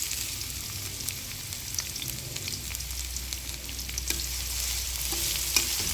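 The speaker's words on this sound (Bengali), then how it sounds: "এখন এই তেলের মধ্যে আরেকটু তেল মিশিয়ে নিচ্ছি এবং এর মাঝে দিয়ে দিচ্ছি কেটে রাখা পেঁয়াজ কুচি।" Chopped onions frying in oil for chicken biryani, giving a continuous bright sizzle with light clinks and scrapes from stirring throughout.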